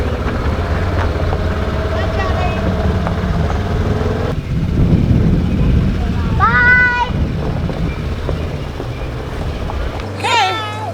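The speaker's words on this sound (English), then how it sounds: "Our first ride in our new Polaris Ranger" A new Polaris Ranger utility vehicle rumbles steadily on a farm ride, its engine and wind noise loud and close throughout, with a cat's meows and voices chiming in over it.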